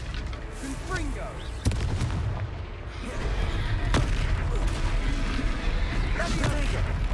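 Confringo fire spells exploding in the video game Hogwarts Legacy, a series of sharp booming blasts over dense game combat noise, with voices talking among the bangs.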